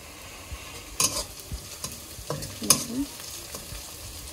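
Onions frying in a pan for haleem, a soft continuous sizzle broken by several sharp stirring scrapes and clanks of the spatula, close and alone without talk.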